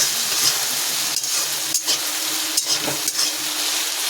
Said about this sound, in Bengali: এবার তবে নাড়িয়ে দেবো।